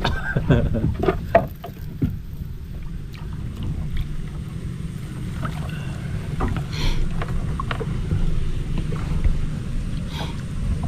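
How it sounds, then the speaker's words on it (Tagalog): Steady low rumble of wind buffeting the microphone, continuous and fairly loud, with a few scattered knocks and splashes early on. "Malakas-lakas yung hangin."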